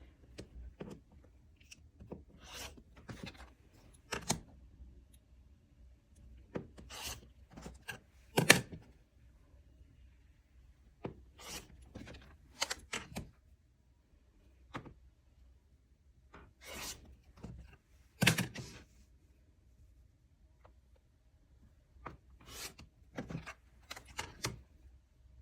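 Rotary cutter slicing a fabric strip into quilting pieces against a ruler, a series of short, sharp rasping cuts spaced irregularly in a quiet room.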